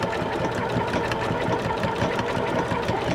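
A Janome sewing machine runs steadily and close, its rapid needle chatter continuous as quilt binding feeds through a binder attachment with a blanket stitch, and no voices are heard.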